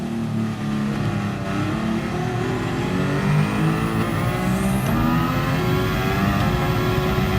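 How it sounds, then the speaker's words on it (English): A Formula One car in Gran Turismo Sport roars with a steady high-pitched engine note, holding a sustained rev with a rising whine near the end, loud and continuous. "So here we are in a Formula One car."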